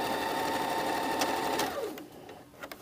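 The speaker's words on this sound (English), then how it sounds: "I'm going to sew to this tick mark, and then I'm going to stop." A sewing machine stitching the lining of a jacket sleeve, running in a steady, fast whirring hum for under two seconds, then slowing to a stop, followed by faint clicks.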